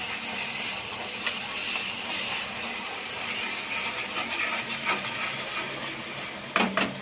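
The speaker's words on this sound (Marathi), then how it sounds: "हे छान कांदे परतून घेऊयात." Finely chopped onions sauté in a pan for pav bhaji, giving a continuous broad sizzle and hiss up close, with a few light scrapes and clinks of stirring near the end and no talking.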